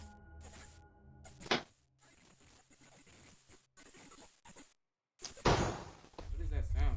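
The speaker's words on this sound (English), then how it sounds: "what's banging on the goddamn door?" Banging on a door in a video game: a few heavy thuds and slams among choppy game sounds, with people talking and brief dropouts to silence.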